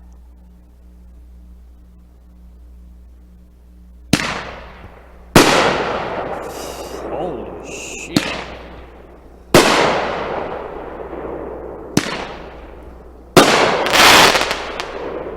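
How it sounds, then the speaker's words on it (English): A Bada Fireworks The Hit 9-shot, 500-gram cake fires outdoors in a field, sharp loud booming shots spaced a second or more apart, each bang trailing off with crackling decay. "Brown wrap, Bada Fireworks, the Hit, 9 shots, 500 grams."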